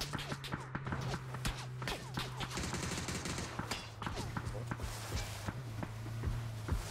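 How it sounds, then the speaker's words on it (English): Gunfire in the battle royale game PUBG during a squads match: repeated sharp shots and bursts with footsteps, all under steady talk from players. "Why was there a gunshot?"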